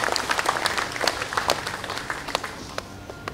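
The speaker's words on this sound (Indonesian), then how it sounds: "Tepuk tangan untuk Sekjen dan Bendum kita." An audience at a Democrat Party anniversary event in Indonesia claps for party officials, with crisp individual handclaps close by that grow sparser and fade as the applause dies down.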